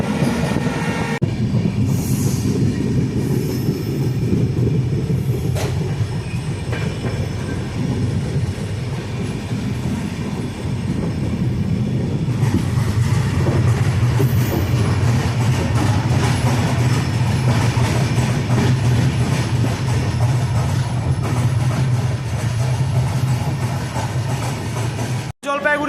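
The 15777 NJP to APDJ Tourist Express runs loudly and continuously on its way into New Alipurduar Junction, with a steady rumble of wheels and rail noise and occasional clatter and squeal close by.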